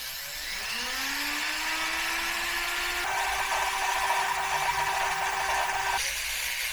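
A high-pitched drill whines steadily, its motor pitch rising as it spins up, grinding continuously before cutting off abruptly.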